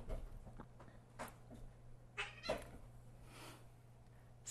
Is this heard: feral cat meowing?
yes